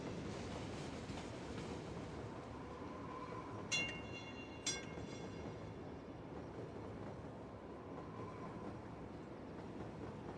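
Trains running in the Cities: Skylines video game, a continuous faint rumble of rolling rail cars with two brief sharp metallic chimes partway through, distant and steady with no voices.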